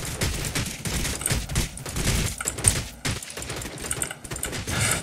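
Rapid gunfire in the survival shooter video game Rule of Survival, dense bursts of sharp shots crackling in quick irregular succession, loud and continuous throughout.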